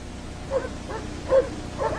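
Sled dogs whimper and yip faintly in short, scattered bursts while being tended, three soft whines rising over a steady background hiss.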